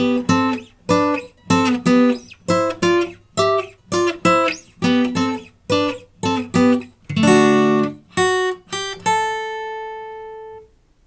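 An acoustic guitar plays a choppy rhythmic riff, short, punchy strummed chords, then lets a final chord ring out and fade.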